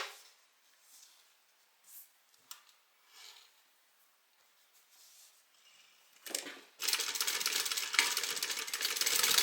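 A sewing machine stitches a lining pocket seam, starting partway through with a loud, steady burst of whirring that runs to the end after quieter handling noises.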